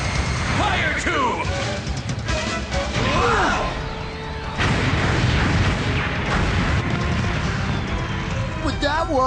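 Cannon shots from the Transformers Energon cartoon fire and explode in a chaotic barrage: sharp booms and crashes, whooshing and sweeping tones, and dense battle noise, with voices over the action.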